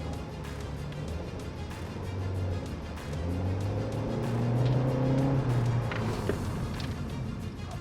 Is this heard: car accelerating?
yes